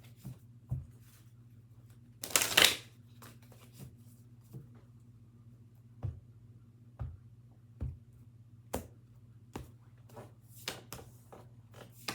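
Tarot cards being handled: a short burst of shuffling early on, then a sparse series of soft taps and flicks as cards are drawn and laid down, close and quiet over a steady low hum, no voices.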